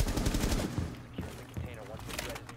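Rapid bursts of gunfire in Rainbow Six Siege, several loud close shots clustered at the start, then scattered quieter shots, with players talking over and between the firing.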